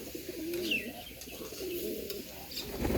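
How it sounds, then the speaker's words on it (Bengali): Bombay pigeons coo inside their coop, soft repeated low rolling coos overlapping one another with a few brief higher chirps, fairly faint and near, with no talk over them. "ওই দেখুন খোপের ভিতরে অনেক ডাকাডাকি করতেছে।"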